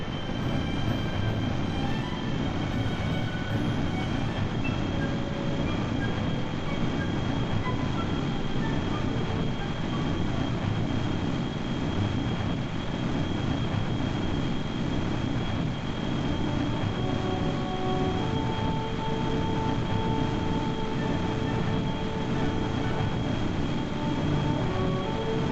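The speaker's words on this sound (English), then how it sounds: "Ready engine spool up. Full throttle." A steady, loud engine roar at full throttle in the Kerbal Space Program game runs unbroken throughout, with a dense low rumble and faint tonal whines layered above.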